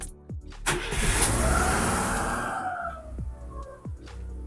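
A car engine is started again after a repair, with the ignition distributor still to be adjusted. It cranks briefly, catches with a loud surge and settles into a close, steady running note, and a few faint clicks can be heard near the end.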